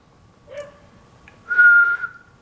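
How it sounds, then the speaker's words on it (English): A person whistles a call for a dog: a short note, then a longer, louder sustained whistle, close and alone with no talk. "I whistled and I waited."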